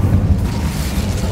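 An Incendio fire spell in Hogwarts Legacy: a loud, brief low whooshing rumble of flame, steady throughout with no voices.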